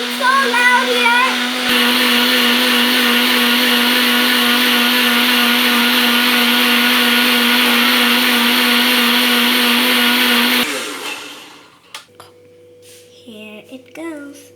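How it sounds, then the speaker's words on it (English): A blender grinds a bourbon milkshake loudly and steadily for about ten seconds, then winds down and stops, leaving faint clinks and brief voices afterward. "we are grinding so loud here."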